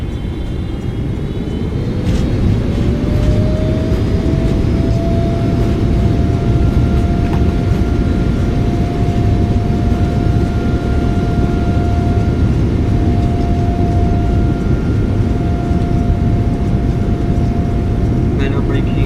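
A Boeing 777F freighter rolls out after landing at Tampa under manual braking, a loud continuous engine and rumble roar with a rising tone that steadies into a held whine.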